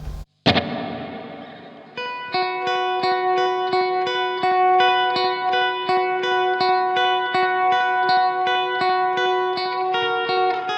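Clean electric guitar through an amp with a single very quick delay repeat and no reverb, played as a steady run of bright picked notes after an opening strum, close and clear for about eight seconds.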